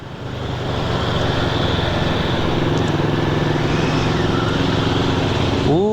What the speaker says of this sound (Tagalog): magandang adventure bike din yan